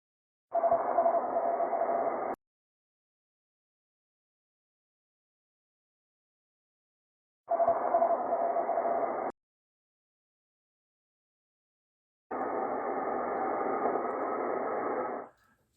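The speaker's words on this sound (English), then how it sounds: "He was so weak, I had to crank up the volume, to dig him through the static." Static hiss on a weak amateur radio signal received at a one-watt low-power contact. It comes as three separate bursts of about two seconds each with silence between them.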